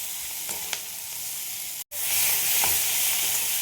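Tomatoes and red and yellow capsicum sauté in a hot pan for a chilli soybean dish, giving a steady, close frying sizzle throughout with a brief dropout midway and no talking.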